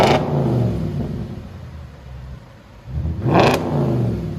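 A 2010 Audi S5 4.2L V8 with muffler-deleted dual exhaust idles with a low rumble, drops briefly, then climbs into one loud, sharp rev before settling back.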